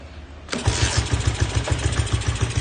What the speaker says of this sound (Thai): เครื่องแห้งๆนะครับผม ฟังเสียงกันเลยครับ